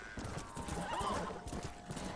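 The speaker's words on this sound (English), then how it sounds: "What's that critter? That's another horse." Horse in Red Dead Redemption whinnies loudly at close range, with clip-clopping hooves thudding steadily underneath.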